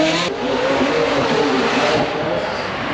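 A race car at the Canberra Festival of Speed, accelerating hard in a loud, sustained engine roar that holds steady for a few seconds.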